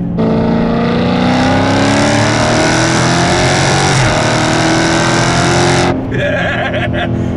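2016 Dodge Challenger ScatPack engine accelerating hard in third gear, a loud, close, rising roar held for several seconds before abruptly easing off.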